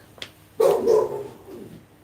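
A dog gives one short, nearby bark followed by a brief drawn-out whine or growl, moderately loud against a quiet background.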